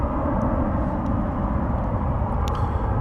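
A Cargolux cargo plane arriving at DFW Airport, heard as a steady, broad jet roar at moderate distance with a few faint clicks over it, no speech.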